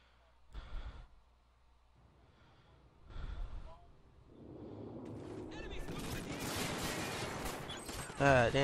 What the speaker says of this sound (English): damn, shots is fired too.